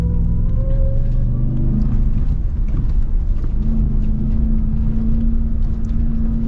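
A 2021 Ram TRX truck crawls along an off-road trail, its engine holding a deep, continuous, loud rumble with a steady low drone and no voices over it.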